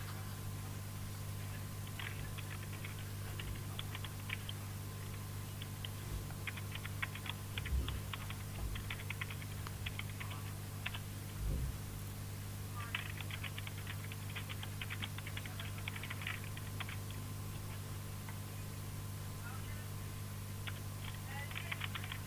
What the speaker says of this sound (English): I just need to type up these details